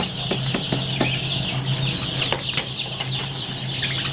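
Tiger and Fayoumi (Misri) chickens and chicks cluck and flap their wings in short, sharp bursts, with rustling and busy fowl noises close by.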